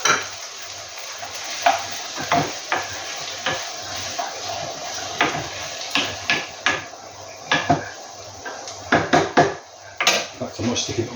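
Onions caramelised in a pan, with garlic and ginger added for a lamb karahi curry, stirred so that a utensil scrapes and clatters against the metal in irregular bursts over a steady low sizzle.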